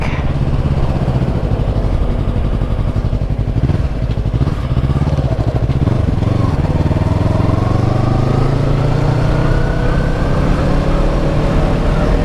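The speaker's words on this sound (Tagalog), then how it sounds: "ito na naman yung mga malalakas na big bike" Loud big-bike motorcycles roar past on a road from Puerto Princesa to Taytay, Palawan, their engines rising in pitch as they close in, heard over the constant drone and wind of the rider's own moving bike.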